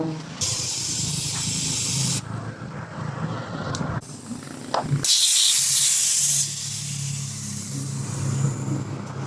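Air hissing loudly into a rear tubeless tire in several long bursts, with short pauses and a low engine hum beneath.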